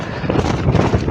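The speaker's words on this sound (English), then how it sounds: "as you can hear, it's very windy still" Strong wind buffets a tent pitched on a winter moor, gusting loud and close with rough, fluttering roar that swells and dips without pause.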